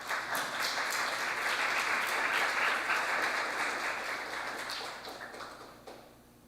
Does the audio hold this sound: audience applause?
yes